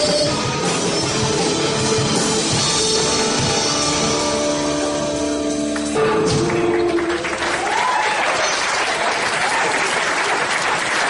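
A live audience applauds loudly and continuously after a guitar performance, with dense clapping and some cheering over lingering music that fades partway through.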